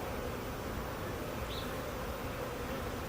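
Honeybees buzzing during installation into a hive in Chicago, a steady, dense drone of many bees close by, continuous and unbroken, with no talking.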